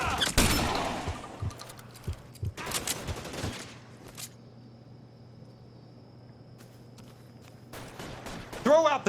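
Gunfire erupts in the L.A. Noire video game as sharp bursts of shots crack at the start, again a few seconds later and once more at the end, with a steady low hum between.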